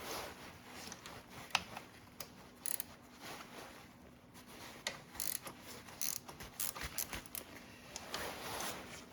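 Quiet ratcheting and metallic tool clicks as a part is removed from a Kawasaki ZX6R motorcycle during a quick shifter install, irregular bursts of clicking close by in a hushed room.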